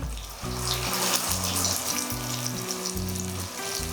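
Mustard seeds crackle and sizzle loudly in hot oil, a dense, steady frying hiss with rapid pops throughout.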